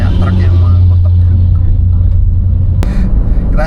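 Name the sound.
truck passed on a winding road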